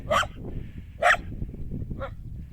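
A dog in Slavske barks three times at close range, two loud sharp barks followed by a softer one, over low background rumble.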